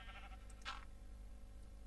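A single short sheep bleat in the video game Minecraft, faint and brief over a low steady background hum.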